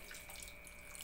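Water being poured into a pot of adobo, a soft continuous trickle, quiet and close, with no talking.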